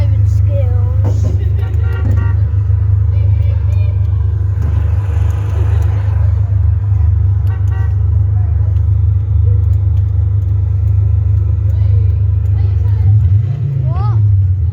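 A car engine rumbles steadily from inside the vehicle while driving, a loud low drone throughout, with people talking over it.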